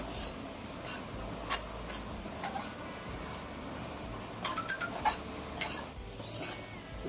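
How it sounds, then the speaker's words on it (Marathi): Semolina (rava) being stirred and dry-roasted in a pan for upma, a spoon scraping and rubbing against the metal in irregular strokes, close and moderately quiet with no speech. "आपला रवा अजून व्यवस्थित पूर्णपणे भाजून झालेला नाही"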